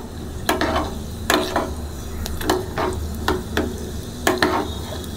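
Cashews roasting in a pan for semiya kesari, a steady soft sizzle broken by repeated scraping, stirring clinks of a spoon against the pan, close and uneven in rhythm.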